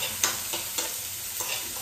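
Tomato and mustard paste going into a hot frying pan, a continuous sizzle broken by several quick stirring scrapes spaced through the moment.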